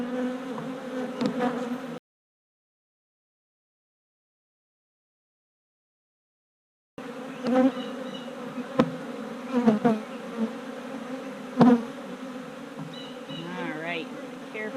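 Honeybees buzz loudly and steadily around an opened beehive during an inspection, a dense close hum broken by a silent gap of several seconds, with no talking.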